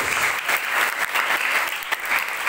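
Dense, sustained applause fills a church gathering at an open-air revival service in a village, many hands clapping loudly and evenly with a few brief swells and no speech.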